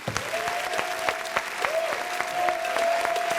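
A crowd bursts into sustained applause to welcome Shaolin onto a show, loud and continuous, with a steady held musical tone running underneath.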